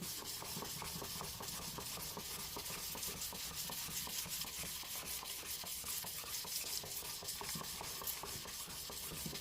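Three-blade jointer/planer knives rubbed back and forth on a 400-grit sharpening block, a steady rhythmic abrasive scraping repeating in quick even strokes, close and alone.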